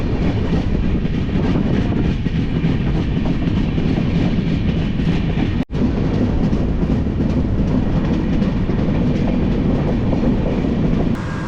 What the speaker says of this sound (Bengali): আমাদের ট্রেন যাচ্ছে